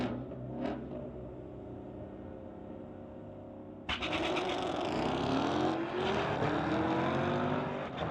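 A 2018 Camaro and a Mustang GT wait side by side at a drag strip with engines idling, then launch abruptly into a loud, sustained acceleration whose pitch climbs steadily as they pull away.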